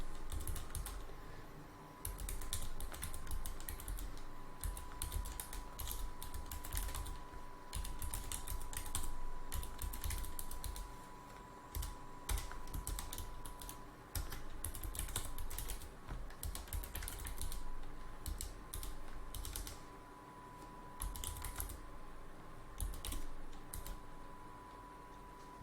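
Rapid, uneven keystrokes on a computer keyboard as a terminal command is typed, close and fairly quiet, running in bursts with brief pauses and no speech over them.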